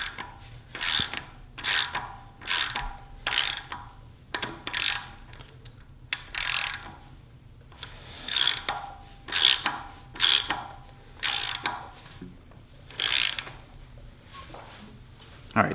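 A ratchet clicks in repeated bursts as the engine of a Mazda MX-5 Miata is turned clockwise by hand during a timing belt install, the pawl ticking rapidly with each pull and pausing between strokes, close and clear.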